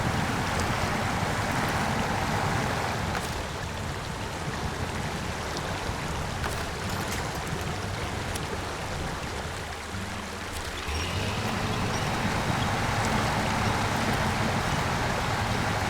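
River water rushing steadily in SnowRunner, a loud continuous broadband flow with a truck engine rumbling underneath and a brief dip in intensity midway.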